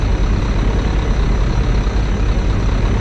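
A bus engine idles loud and steady with an engine cooling fan whirring along, a constant close drone with no break and no voices.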